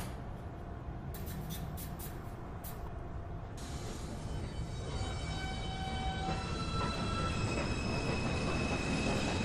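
A Manhattan-bound NYC subway 2 train pulls out of the station, its steady rumbling roll building in loudness, with squealing wheels and brake hiss breaking through and faint tonal whines rising above.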